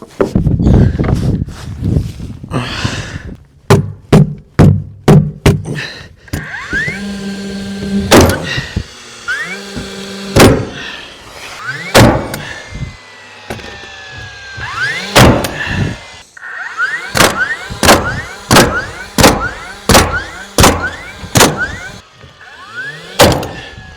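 A sheet being tacked and nailed onto wooden blocks while closing down a camp for winter: a run of sharp, loud, close nail-gun shots, some in quick bursts and others spaced apart, with shuffling and handling noises between them.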